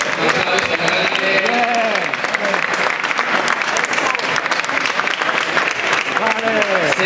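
Sustained, loud crowd applause fills a wrestling club's anniversary trophy ceremony as champions pose for photos, with voices and cheers mixed in throughout.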